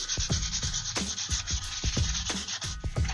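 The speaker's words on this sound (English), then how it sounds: "And you just want to sand it down." Sandpaper scrubbing paint off a plastic headlight bezel, rapid rhythmic back-and-forth scratching strokes, close and steady for several seconds with no voices.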